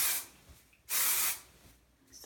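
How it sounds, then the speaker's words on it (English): Hairspray sprays in two short hissing bursts close by, with a quieter spritz starting at the end. "So I'm going to keep spraying that in there."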